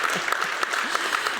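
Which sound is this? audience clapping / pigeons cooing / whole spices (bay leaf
audience clapping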